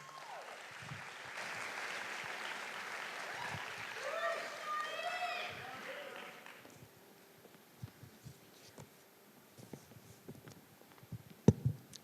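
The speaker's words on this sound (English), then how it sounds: "Give her a round of applause." An audience at a STEM fall orientation applauds as a guest speaker is introduced, a broad wash of clapping lasting several seconds before fading into quieter room noise with scattered thumps.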